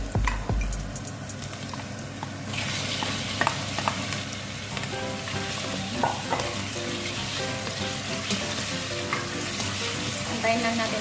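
Onion and chicken fry in a hot pan, a dense continuous sizzle that swells after a quiet start, with occasional scrapes and clinks of stirring, close and steady with no voices.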